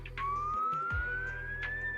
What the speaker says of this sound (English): a faint sound of sirens can be heard nearby